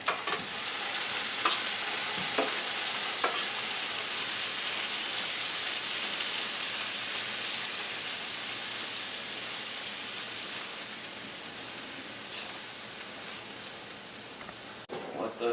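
Seasoned shrimp frying in a hot pan for a shrimp and broccoli stir-fry, giving a dense, even crackling sizzle that holds steady throughout, close up, with a few sharper pops.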